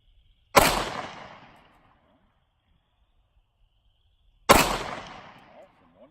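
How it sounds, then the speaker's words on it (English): Two sharp, loud Glock 48 pistol shots fired at a target on a shooting range, spaced about four seconds apart, each with a short decaying echo. "Put 5 rounds on this target."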